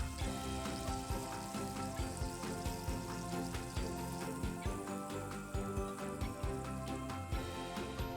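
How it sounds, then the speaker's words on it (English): Short ribs searing in olive oil in a pot make a steady, loud sizzle and crackle, with dense spitting pops throughout and no voices. "Now take your short ribs and place them into the pot to sear on both sides."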